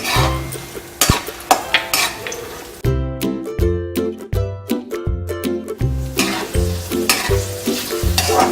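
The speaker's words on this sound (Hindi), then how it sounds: "2 टेबलस्पून फुल हमने किशमिश भी लिया है, इसको भी इसी में डीप फ्राई करेंगे" Chopped almonds and raisins deep-fry in hot ghee with a steady sizzle, while a metal spoon stirs and taps against the pan in close, repeated strokes.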